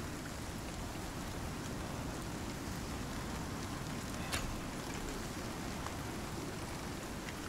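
Steady rain falling in the survival game Icarus, a constant even hiss of drops at moderate level with a faint wind-like wash beneath, no voices.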